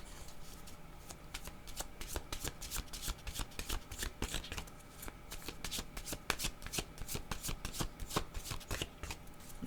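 A deck of oracle cards being shuffled up close, a steady run of crisp riffling flicks and slaps repeating through the whole stretch, with no voices.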